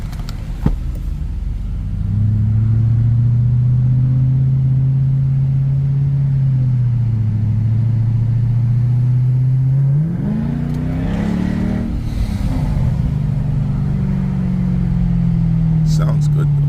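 A Mercedes CL63 engine drones steadily while driving on the road under light throttle, its deep rumble rising and shifting pitch midway as it pulls, loud and close throughout.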